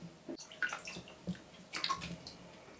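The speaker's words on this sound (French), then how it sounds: "développement et lavage de l'image dans l'eau" A photographic print washed in water during darkroom developing, with quiet sloshing and splashing of liquid in a tray, faint and close, in a few irregular bursts.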